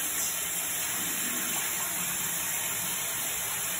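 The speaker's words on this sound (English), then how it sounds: "And I always go in and I just wash it with my washcloth." Water running and splashing at a sink while a face is washed with a washcloth, a steady close gush with no talk.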